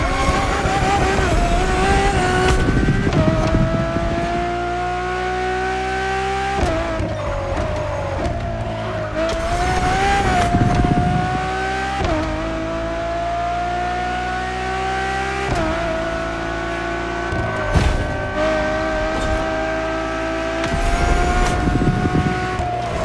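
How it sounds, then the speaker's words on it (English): A Ferrari road-legal hypercar built as a road-going Formula One car in The Crew Motorfest, its engine roaring loud and close with repeated revving climbs, gear shifts and brief tire squeals. "nothing less than a road-legal Formula One, faster on the track but more civilized on the road, Ferrari went all out"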